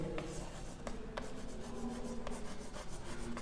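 A heading written on a classroom board during a physics lecture, with rhythmic scratching strokes and a few sharp taps as letters form, quiet and close, with no talking.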